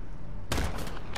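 Gunfire in the Call of Duty Modern Warfare multiplayer video game: a sudden loud burst of rapid shots erupts after a quiet stretch and keeps rattling to the end.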